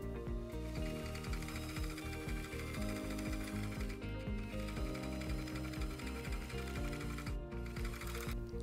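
A sewing machine stitches a hoodie seam with a steady, fast mechanical clatter that runs unbroken and fairly close, with faint background music.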